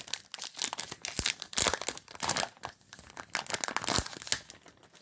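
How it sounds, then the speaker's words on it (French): A trading card booster pack wrapper is torn open, with close, loud crinkling and crackling of foil plastic in irregular bursts and tearing rips, and no talking. "Ça fait trop longtemps que j'ai pas ouvert de booster"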